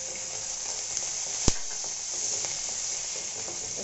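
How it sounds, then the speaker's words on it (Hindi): Whole spices, green chilli and onion sizzling in ghee in a kadai, heard as a constant soft frying hiss with one sharp clack near the start, quiet and without voices. "अपना हमने कढ़ाई में घी डाला है, इसमें हम पहले खड़े खड़े मसाले डालेंगे"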